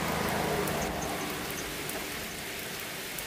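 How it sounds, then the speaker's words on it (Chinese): Rain falls steadily outdoors near a doorway, a broad even wash of patter and hiss that holds at a constant level for a few seconds without speech. "怎么现在还下雨？"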